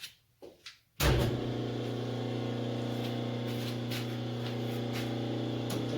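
A Rockwell lathe with a modified brake is switched on after a few soft knocks, its electric motor jumping straight to a steady, humming whine that runs evenly to the end.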